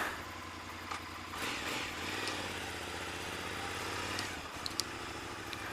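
Motorcycle engine running steadily on a ride home at midnight, a continuous close, even rumble with slight swells and a few small clatters.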